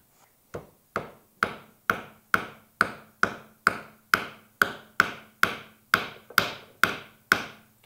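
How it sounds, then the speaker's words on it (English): A hammer driving nails into a wooden birdhouse on a workbench, about sixteen sharp, evenly spaced blows in a steady rhythm, loud and close with no talk. "you use a hammer"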